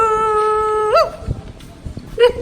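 A dog at a hotel on a beach trip lets out a long, rising howl, then gives short, sharp yelps close by over light background noise.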